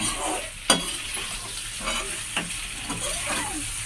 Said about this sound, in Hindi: आलू को अच्छा से भून लेते हैं